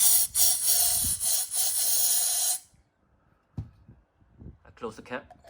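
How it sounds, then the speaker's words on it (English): A strong hissing spray of degreaser blasts into a bearing cleaner for a couple of seconds, then stops, followed by faint handling noises and some breathy shuffling. "I pump in some degreaser spray."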